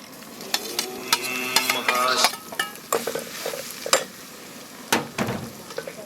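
Grated coconut stirred and sautéed in a pan while making kozhukattai for a full-moon puja, with a steady low sizzle under repeated scraping strokes and sharp clinks of a spoon against the pan, close and fairly loud.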